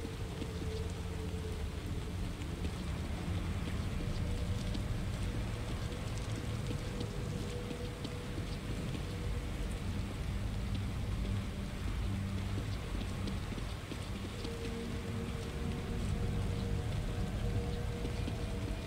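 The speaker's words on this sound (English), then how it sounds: "Rain is gonna wash away any evidence." Rain falling in the video game The Evil Within, a steady, moderately loud hiss of drops with a low rumbling undertone running unbroken throughout, no talking.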